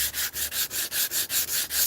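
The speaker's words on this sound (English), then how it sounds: "now I'm taking my sanding down a little bit finer with this disc here" Steady rhythmic rasp of a sanding disc on a primed surface before painting, each pass a hissing sweep repeating about every fifth of a second, close and loud.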